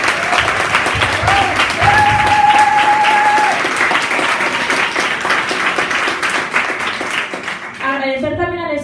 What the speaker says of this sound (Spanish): así que un aplauso para ellos, por favor.